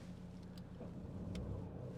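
A car engine idles steadily during a single-line winch recovery, a low continuous rumble with a faint rise partway through, no talk.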